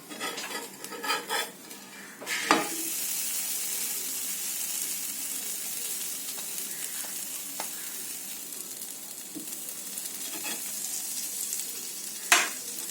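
Paneer and cheese sandwich roasting in butter on a pan, a steady soft sizzle throughout with a few sharp utensil knocks and scrapes against the pan.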